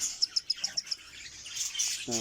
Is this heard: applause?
no